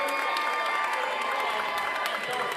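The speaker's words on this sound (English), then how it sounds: "The crowd tells you who's winning right now" Spectators at a high school basketball game cheer and clap in a gym, a bright sustained roar of crowd noise with shouting voices mixed in, fairly distant and steady.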